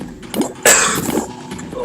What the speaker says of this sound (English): Oh boy, I got a bad cough today